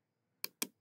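Two quick keystrokes on a computer keyboard, crisp and close, typing a short command in a quiet room with a brief pause between taps.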